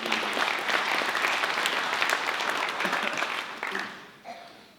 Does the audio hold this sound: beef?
no